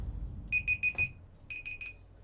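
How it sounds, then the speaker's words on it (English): A phone alarm set as a laundry reminder beeps in two short bursts of four bright, evenly spaced tones, moderately quiet, with a faint low rumble underneath and no talking. "I have an alarm set for some reason. It's telling me to take my laundry out"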